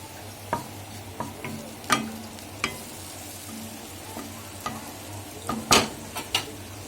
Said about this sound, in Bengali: কড়াতে অল্প তেল দিয়ে এবার চিংড়ি মাছগুলো আমি ভেজে নিচ্ছি।